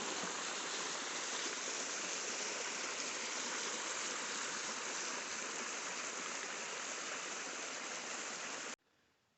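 A waterfall and stream rushing through a gorge in the Maine wilderness, loud and steady broadband roar of flowing water that cuts off abruptly near the end.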